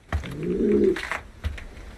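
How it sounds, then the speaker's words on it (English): One short, close coo from a pigeon cock calling a hen rolls out between a couple of soft thuds, with no speech. "That's the noise of the cock calling the hen there now."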